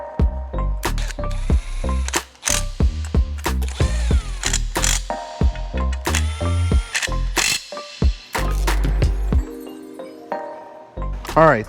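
A ratchet clicks in rapid repeated bursts while a supply bracket and proportional valve for the ABS conversion are mounted on a 1993 Acura NSX NA1, loud and close, with a voice speaking between strokes.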